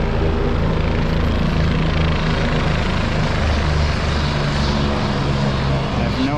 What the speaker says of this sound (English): So this helicopter just landed right here.